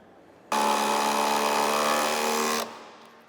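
A power driver whirs in one sustained, even burst lasting about two seconds, driving a screw down through lumber into wooden blocks during a 2x8 bending project; nearby and alone, no talk.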